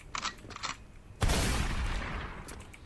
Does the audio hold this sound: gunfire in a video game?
yes